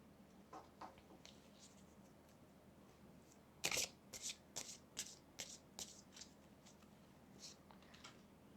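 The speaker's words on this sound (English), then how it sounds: "Let me draw some more cards for you." Tarot cards are shuffled and drawn, giving a series of soft, crisp slaps and flicks after a stretch of near quiet, with one sharper snap, close and faint over a low room hum, with no talk.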